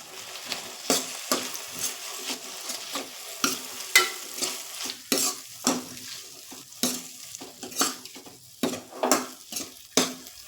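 A spoon stirs cauliflower and potato curry in a pan, giving repeated scraping strokes in an uneven rhythm over a soft sizzle, close and fairly quiet.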